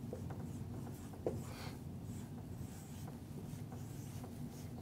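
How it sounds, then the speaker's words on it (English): Marker writing on a board during a marketing training session, faint scratchy strokes and light taps over quiet room tone, with one sharper tap partway through. "we're going to go ahead and write some things on the board today"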